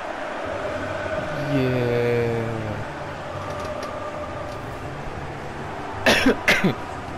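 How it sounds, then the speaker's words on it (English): A person with a cold coughs twice in quick succession, loud and close, after a stretch of quiet background sound with faint talk. "I still have a cough from this blinking cold that I've had the last week or so"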